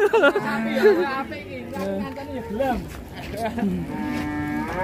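Cattle low loudly and close at the Garangan cattle market, with several long, wavering moos following one another over background chatter from the crowd.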